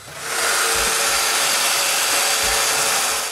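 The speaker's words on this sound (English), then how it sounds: "Some mortises are made with my small domino machine, and the rest is done with the big one." A domino joiner cuts mortises into wood planks, giving a loud, sustained whirring cut with a couple of low thumps as the tool plunges, close up with no talking.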